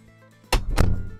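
The bathroom door of a 2026 Hymer ML-T 580 Crosstrail motorhome swings closed in a quiet interior, two quick close thuds of the latch clicking shut after a near-silent moment.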